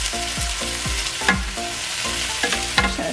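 A spatula stirs butter through caramelized onions frying in a hot pan, a continuous close sizzle with rhythmic scraping strokes and occasional soft clicks against the pan.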